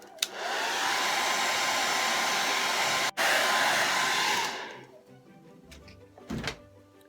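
A hair dryer blows loudly and steadily on a decoupage heart for several seconds with a brief dropout midway, then cuts off, followed by a few soft handling knocks and thumps.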